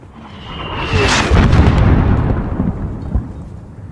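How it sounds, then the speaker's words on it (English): Mortar explosion in Call of Duty Modern Warfare (2019): a deep rumbling boom swells after the first second and rolls on loudly for several seconds, with a faint whistle-like tone at the start and a smaller thump near the end. "There's still a mortar out there."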